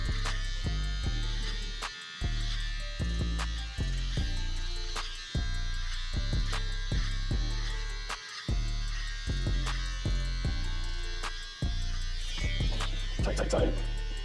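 An electric trimmer buzzes in repeated short bursts while sculpting a beard fade, switching on and off with brief gaps, close and fairly quiet.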